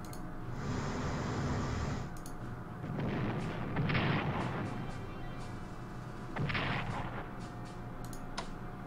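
Battleship artillery fire in the strategy video game Strategic Command, heard as several heavy booming blasts with rumbling low-end decay, spaced a couple of seconds apart, loud and without talk.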